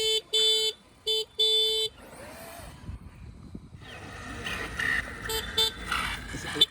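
A horn fitted to an Arrma Kraton RC motorbike gives three short, loud electronic toots, then after a brief pause the motor whines and revs with a few more honks blended in.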